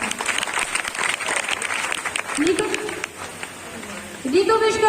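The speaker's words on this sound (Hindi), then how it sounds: "जोरदार तालियां।" A crowd at a government ITI convocation ceremony in Damoh, Madhya Pradesh applauds loudly and densely for a few seconds, then the clapping fades as a voice speaks over the hall.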